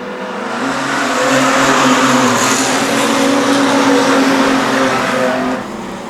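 A pack of street stock race cars roars up to speed at a green-flag restart late in an endurance race on a short oval, engines droning loud and steady with layered, rising tones over the full stretch.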